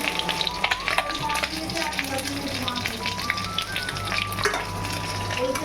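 Chutney cooks in oil in a pan with a steady, close sizzle and frying crackle. Faint stirring and household background sounds run underneath.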